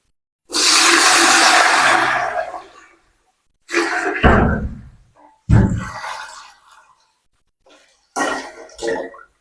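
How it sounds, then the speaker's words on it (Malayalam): Water pours steadily into a cooking pot for biryani rice for about two seconds, then comes in a few shorter splashing bursts separated by pauses. "ആവശ്യത്തിന് അരി ഉപയോഗിക്കാൻ ആവശ്യമായ വെള്ളം ഒഴിച്ചു കൊടുക്കാം"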